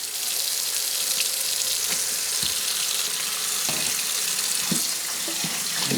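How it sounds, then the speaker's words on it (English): Running tap water pours steadily into a kitchen sink for several seconds, a continuous bright splashing rush with small knocks of something shifting in the basin, no talking. "fill the sink up with water"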